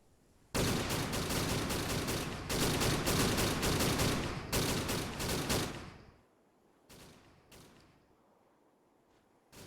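Soldiers in Arma 3 mag-dump in long, rapid bursts of automatic fire during a First Indochina War operation, loud and close for several seconds, then easing to a few scattered distant shots.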